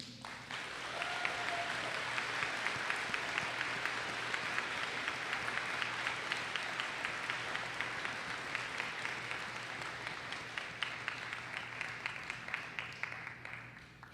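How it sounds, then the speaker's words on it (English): School awards assembly crowd giving a sustained round of applause for award winners, dense even clapping across a large room that holds steady and fades slightly near the end, with no talking. "Please give our award winners another round of applause."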